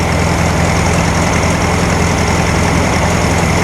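A 1964 VW Beetle with a 1600cc dual-port engine that stumbles when the throttle is opened, heard as a loud, steady, rough engine drone close by, with no talking.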